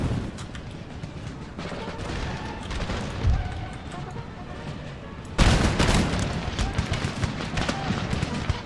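Battle gunfire and howitzer explosions from the game Empire: Total War, a dense crackle of distant musket volleys and booming blasts that swells louder partway through, under a talking voice.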